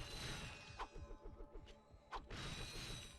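A teleporter in Ratchet and Clank, a soft whooshing warp sound with rhythmic mechanical pulses and two bright swells, moderately quiet and heard alone.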